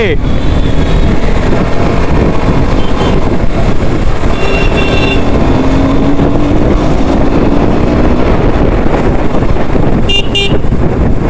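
A KTM motorcycle with a low oil pressure problem roars close and loud while being ridden, its engine pitch rising under heavy wind rush, with voices talking over it.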